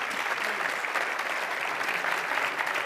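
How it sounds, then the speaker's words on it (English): An audience gives a steady, dense round of applause, sustained clapping from many hands at even loudness throughout, with no talk over it. "A round of applause for Tsuji-san."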